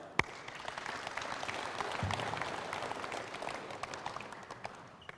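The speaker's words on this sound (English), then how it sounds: "Give them a clap." An audience at a basketball coaching clinic claps for drill demonstrators, a soft, fairly distant patter of applause held steady for several seconds after one sharp, louder clap at the start.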